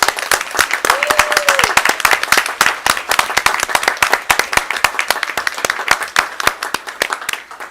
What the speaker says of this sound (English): We'd like to applaud you as well